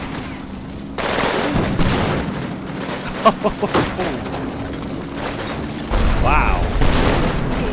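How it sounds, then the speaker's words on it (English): Anti-tank infantry gun firing in the Combat Mission Red Thunder war game, several sharp booming reports with a sustained rumbling battlefield din between them, loud and fairly close, with a brief voice exclaiming over it. "Oh, it is an anti-tank gun. Oh, it's like the infantry gun."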